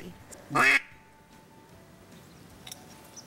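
A single loud duck quack rings out close by during a duck hunt, brief and sharp, followed by quiet outdoor background with a faint distant call near the end.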